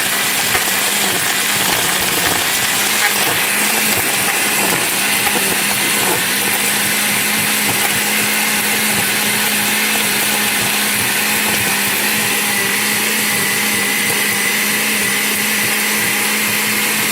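A blender crushes ice cubes with black iced tea for a slushie, a loud, steady, grinding whir that runs unbroken for the whole stretch, with no talking over it.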